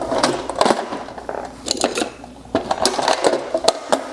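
Screws being backed out of the headlight clamp on a Royal Enfield Interceptor 650 motorcycle, a run of close, scratchy ratcheting clicks and rattles coming in uneven bursts with short pauses between them.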